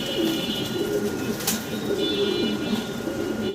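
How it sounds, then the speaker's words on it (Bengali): A pair of racer pigeons coos in soft, steady, low throaty murmurs that continue close by for the whole stretch, with no talking. "খুব সুন্দর একটা কালারের ভিতরে আছে একজোড়া রেসার কবুতর"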